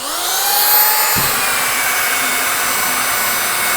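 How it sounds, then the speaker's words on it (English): A power sander whines close and loud against wooden pieces for a box joint flower box, starting with a sudden steady hum that holds without a break. "So I'm just going to sand these down."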